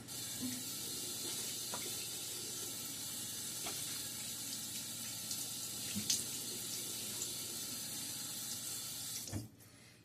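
Water runs steadily from a bathroom tap during a wet shave, a constant close hiss and splash with small clinks, stopping abruptly near the end.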